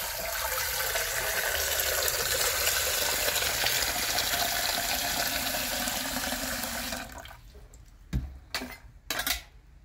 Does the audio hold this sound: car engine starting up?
no